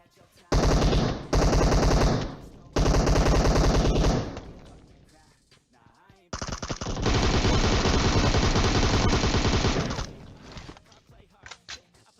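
Automatic weapon fire in the shooter game PUBG, heard as loud rapid bursts: three short volleys, a brief lull, then one long sustained stream of shots.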